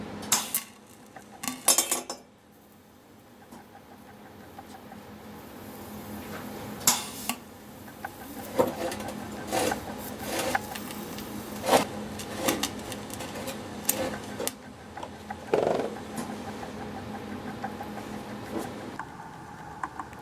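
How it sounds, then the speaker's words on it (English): A homemade ring polishing tumbler churns chainmail rings with sand, producing a continuous metallic rattling and clinking with sharper jangling bursts, close and steady throughout without any talking. "Ring polishing machine."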